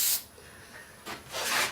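Clear lacquer sprays from an aerosol can onto the chassis of a 1930s mantle radio, two short hissing bursts separated by a brief quiet pause, close and fairly loud.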